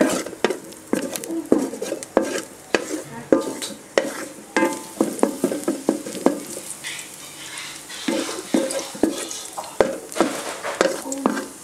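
Food sizzles steadily in a hot pan while a utensil scrapes and clatters against it in quick repeated strokes.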